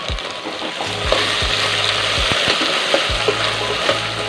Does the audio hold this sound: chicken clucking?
no